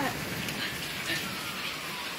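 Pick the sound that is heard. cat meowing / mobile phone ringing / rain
rain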